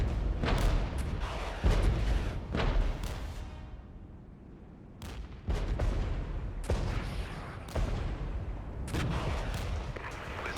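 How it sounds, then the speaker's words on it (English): Booming artillery impacts and gunfire in a war video game pitting Canadian and Dutch forces against Czechoslovaks, with repeated heavy blasts landing every second or two in a dense, continuous barrage. "And the artillery strike as well."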